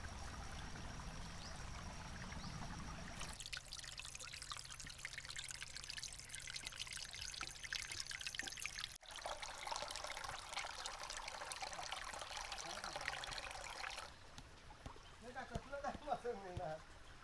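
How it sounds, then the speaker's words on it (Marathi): Steady trickling water from a small stream in a Konkan cashew orchard runs throughout, a continuous bright splashing flow that shifts slightly in tone partway, with a voice speaking over it. "कसं बारीक एकदम झरा आहे बघा"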